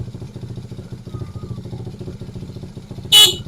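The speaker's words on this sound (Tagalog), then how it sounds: "Try mo bumusina." A single short, loud horn beep from an idling motorcycle fitted with a capacitor, sounding over a steady low engine putter.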